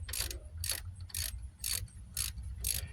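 A ratchet tightens bolts on the rear hub of a 2006 Dodge Grand Caravan during a hub bearing replacement, giving six evenly spaced bursts of rapid clicking, close and clear over a low background hum.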